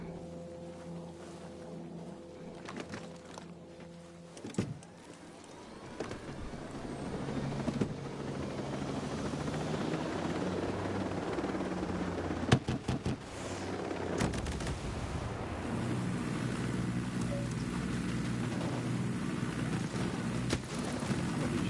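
A helicopter churns in the tactical shooter video game Ghost Recon Breakpoint, a steady droning engine and rotor wash that swells and holds, with sharp gunshot-like cracks and bangs breaking through over the top.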